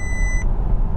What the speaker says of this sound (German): Aber jetzt werde ich nochmal hier erinnert, bitte Lenkung übernehmen mit dem Ton